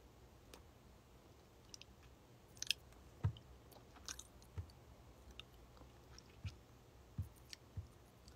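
Chewing and biting food during a casual live stream, with soft irregular mouth clicks and squishy bites close to the microphone over a quiet room hum, no talking.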